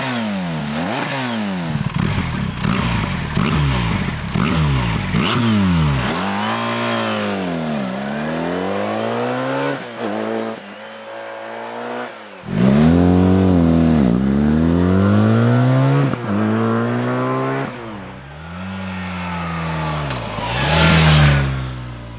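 A BMW R1300GS motorcycle fitted with an Akrapovic slip-on exhaust revs repeatedly, each loud blip rising and falling in pitch, with short idle pauses between throttle bursts and a final hard rev near the end.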